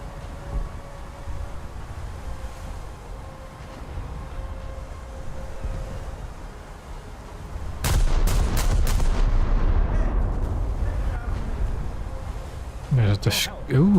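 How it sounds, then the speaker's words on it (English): Heavy booming impacts, like torpedoes striking an island during a World of Warships naval battle, burst in loudly around the middle and continue in a dense, rumbling cluster over steady game ambience. "I'm hearing torpedo impacts on the island"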